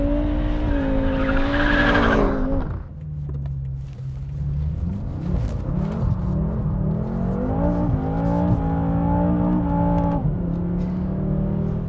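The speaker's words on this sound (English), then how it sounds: "It's just so much fun to drift this car." A 560 hp BMW M6 Gran Coupé V8 drifts with loud, sustained tire squeal over a revving engine, dropping briefly before the squeal and throttle build again in long, close sweeps.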